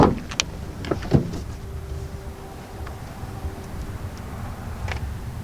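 Sharp close clicks and a thunk from a 2019 Honda Civic Sedan door as its sensor-equipped handle is pulled and the door swings open, followed by a quiet interior hum and a later soft click.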